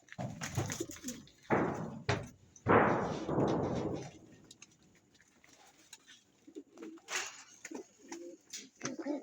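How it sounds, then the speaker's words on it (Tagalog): Pigeons coo softly nearby in low, breathy bursts, mixed with fluttering rustles and occasional clicks in a quiet space. "Ayan, magandang ibon."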